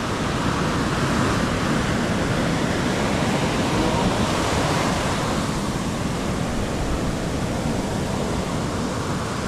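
Big ocean waves surging at the shore, a loud, steady broadband roar of surf with little break in it, close and continuous throughout.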